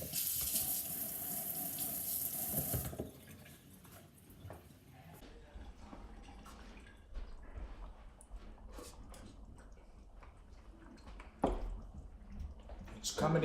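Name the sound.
rinsing food under running tap water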